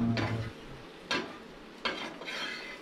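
Prawns and fish frying in a pan after a night catch at the sea, with faint sizzling and three distinct scrapes or stirs of a utensil against the pan, quiet and close.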